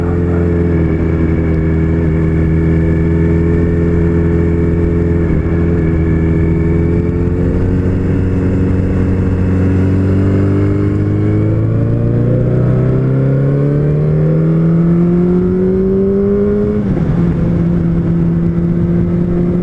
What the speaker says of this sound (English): Definitely a nice acceleration on the 2nd gear.